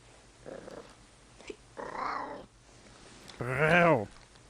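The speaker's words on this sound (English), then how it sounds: "Do we hear any more noises from the deep and hoarse voice cat?" A cat gives three hoarse, low meows at rising loudness, the last one long and strained, with quiet pauses between them.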